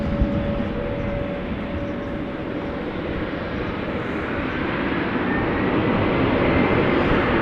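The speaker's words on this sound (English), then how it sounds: "KLM flight 1799 to Düsseldorf. In the meantime, taking off from the runway in the background." A KLM airliner bound for Düsseldorf takes off from a runway at Amsterdam Schiphol, heard as a steady, broad jet roar from a distance that holds level and swells slightly toward the end, with no talk.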